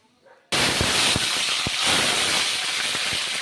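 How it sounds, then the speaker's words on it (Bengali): Panch phoron spices hit hot mustard oil in a pan, and after a short quiet start a loud, dense sizzling hiss kicks in abruptly, crackling with small pops and spatters and holding steady to the end. "পাঁচফোড়নগুলো ভালো করে ভেজে নেব"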